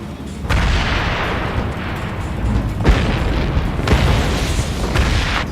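Aircraft blowing up in the video game Ace Combat Assault Horizon: loud, heavy rumbling booms roll on continuously, with sharper blasts punching through at intervals.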